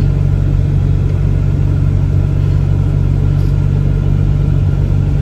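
A car engine drones loud and steady while driving through an area hit by a super typhoon, a constant low rumble with no other sounds rising above it.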